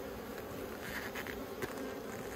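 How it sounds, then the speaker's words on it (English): A steady, dense buzz of many honey bees at an open hive hums continuously, close and moderately loud, with occasional louder passes. "So there you go, a bit more brood this end of the nest. Good pattern, bees seem healthy."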